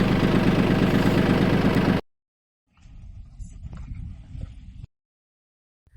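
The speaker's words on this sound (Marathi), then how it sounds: "माल बाहेर काढायला पोपट काकांचं ट्रॅक्टर घेऊन चाललोय आणि डबा पण त्यांचाच घेतलाय" A tractor engine idles loudly and steadily up close for about two seconds, then cuts out abruptly, followed by a quieter, uneven rumble and then silence.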